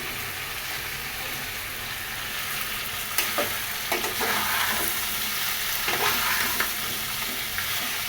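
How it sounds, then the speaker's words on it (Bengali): Fish and potatoes sautéing in a pan as a base for a fish curry, a steady close sizzle with occasional scraping stirs and clinks of a utensil, no voices. "ঝোল রান্নার জন্য মাছ আর আলু আমি আলাদা করে সুন্দরভাবে কষিয়ে নিচ্ছি।"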